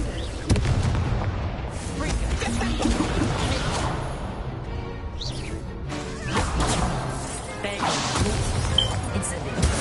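Incendio fire spell cast in a Harry Potter video game on PS4, a series of loud whooshing blasts and crashing bursts erupting one after another over a busy, noisy game background.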